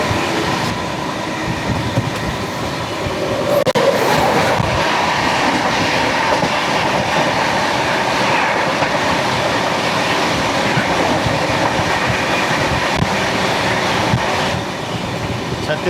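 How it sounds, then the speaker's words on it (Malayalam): A Chhattisgarh Express train passes on the crossing track in the Chambal region, a loud, steady rumble of wheels and carriages running continuously close by with rhythmic clatter throughout. "ഛത്തീസ്ഗഡ് എക്സ്പ്രസ് നമ്മളിപ്പോൾ മിക്കവാറും ക്രോസ് ചെയ്യും ഉടനെ തന്നെ."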